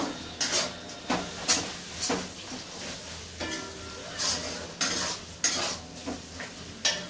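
A spoon stirs food with chopped coriander leaves in a hot pan. There are repeated scraping strokes in an uneven rhythm over a soft, steady sizzle, close by, with no talk.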